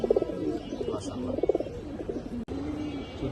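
Pigeons from a Bagha silver collection, red-eyed and short-beaked birds, coo in low, throaty, pulsing rolls, several calls overlapping close by, broken by a brief click.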